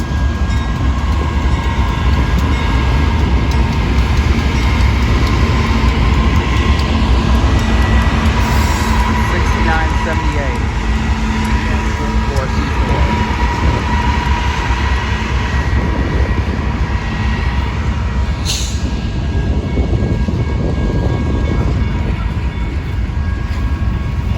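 A long monster freight train rolls steadily past a railroad crossing, a loud continuous rumble and wheel noise throughout, with a brief high squeal near the end.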